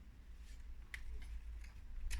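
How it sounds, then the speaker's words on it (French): Scissors trimming excess paper or tape off a handmade card, a few short snips spaced apart over a low steady background hum, close and fairly quiet. "je vais découper ce qu'il y a en trop"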